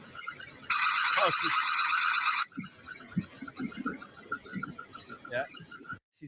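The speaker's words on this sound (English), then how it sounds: "She's blasting off the alarm" A loud, dense electronic alarm blares for about two seconds near the start, then cuts off, leaving a faint repeating tone under people talking.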